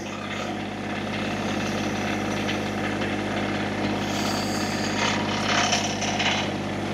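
Massey GC1725 compact backhoe engine running steadily while scraping gravel for a front yard drainage job, a continuous close droning hum with a faint rise and fall under occasional higher rattles.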